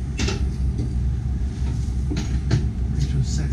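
An old van that has sat unused for years churns with a steady, loud low rumble as its engine cranks and tries to catch, with faint clicks and rattles over it.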